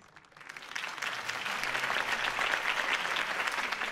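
A crowd in the Batman: The Telltale Series video game applauds after Harvey Dent's campaign speech. The clapping starts soft, swells within the first second and then holds as a steady, dense wash of many hands.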